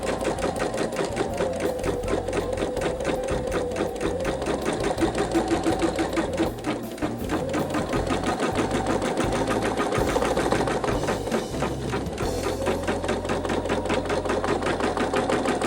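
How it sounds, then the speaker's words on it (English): A sewing machine stitches fabric along a perforated edge for a quilt circle, a steady, rapid mechanical chatter running almost unbroken and close up, with a brief pause midway. "I'm just stitching right along that perforated edge"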